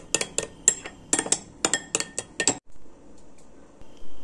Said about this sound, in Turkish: Karıştırıyoruz iyice.